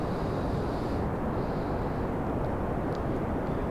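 Rocket engine roar in Kerbal Space Program, a dense broadband rush holding steady and loud, with a slight easing in the upper hiss about a second in, alone without talk.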